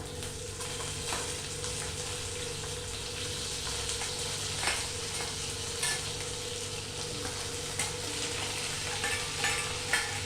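Chopped onions, potatoes and green chillies sizzle and fry steadily in a pan, a continuous crackling hiss with occasional stirring scrapes, close and moderately loud with no talking.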